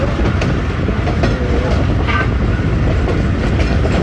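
The Jaffar Express rolls along the rails in foggy winter weather, a loud, continuous rumble of wheels and carriages with faint rhythmic clatter and no voices.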